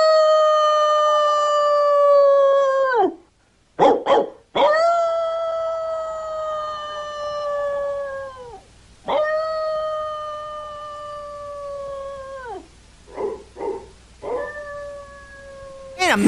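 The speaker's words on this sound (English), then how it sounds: "I'll bark all night if I have to." A dog in an animated 1961 film howls long, drawn-out, wavering notes again and again, broken by a few short sharp barks, loud and close with brief pauses between calls.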